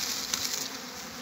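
Honey bees buzz at a beehive, a close, steady, dense hum lasting just over a second with no voices.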